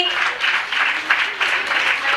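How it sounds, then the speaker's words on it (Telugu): An audience claps together at a pre-Christmas celebration in a Nellore compound, a steady wash of applause rising and falling in a few waves, moderately loud with a faint voice underneath. "చప్పట్లు కొట్టండి ఒక్కసారి"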